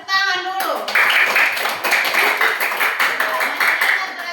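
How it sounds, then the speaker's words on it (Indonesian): Children clap their hands in a classroom after a short pause, giving a run of fairly quick, close claps with some chatter mixed in over the clapping. "Tepuk tangan dulu."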